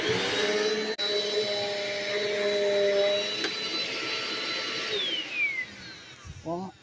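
A Black and Decker BDLCE101 vacuum cleaner runs with a loud steady whine for about five seconds, then its motor winds down with a falling pitch, followed by brief talk near the end.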